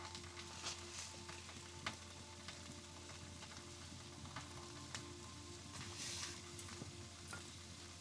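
Food sizzles steadily on a stove inside a hot tent in Alaska, a faint, continuous frying crackle with occasional light clinks, no talk.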